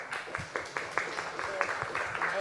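A small audience claps steadily at a festival panel discussion, producing a moderate, evenly paced patter of hand claps throughout.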